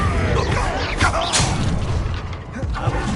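A Confringo explosive spell in the Hogwarts Legacy video game bursts with a loud crash and rumble, followed by crackling debris and ringing magical tones.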